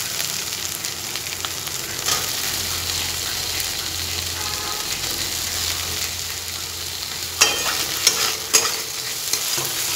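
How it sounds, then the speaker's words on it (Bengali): A spice masala with salt-and-turmeric fried prawns sizzles steadily in a pan while it is stirred, with soft scraping throughout and a few sharper clanks near the end. Close, with no talking. "চিংড়ি মাছটা দেওয়ার পর আবার 2 মিনিট আমি মশলাটাকে কষিয়ে নেব।"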